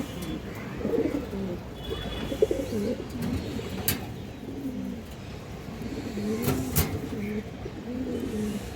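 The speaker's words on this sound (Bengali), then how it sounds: "এই দেখেন দর্শক বাঘা মাদি কবুতর, বিগ সাইজ।" A big female Bagha pigeon, a breeder kept at home, coos in repeated low throaty phrases close by, with a steady rumble of passing traffic and occasional sharp clicks behind it.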